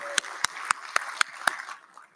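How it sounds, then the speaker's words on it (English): A few claps at an education sector lekgotla conference, six sharp evenly spaced hand claps over a faint room murmur, quiet and somewhat distant, tailing off into near silence. "Shall we give a round of applause for the work done by Commission 1?"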